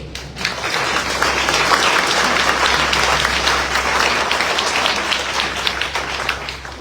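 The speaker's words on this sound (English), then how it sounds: "So, if you want to applaud, this is your time to do so." Audience at an NAACP candidate forum and mayoral debate in Meridian and Lauderdale County breaks into loud, sustained applause, a thick continuous roar of many clapping hands that holds strong for several seconds.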